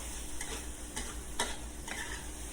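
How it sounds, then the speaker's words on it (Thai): Holy basil is stir-fried with fermented beef in a pan, producing a soft, steady sizzle with a few distinct scraping strokes of the spatula, close up and without talk. "ผัดแป๊บเดียวค่ะ กะเพราสลดก็เป็นอันเสร็จ"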